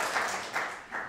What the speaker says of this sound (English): One hand clapping, two hands.